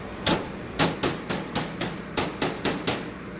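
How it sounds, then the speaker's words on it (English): Hammer blows on metal during a disc mower repair after a culvert collision, about ten sharp, evenly spaced strikes ringing out close and fairly loud with no talk. "Either using a 4-ounce hammer or a 4-pound hammer."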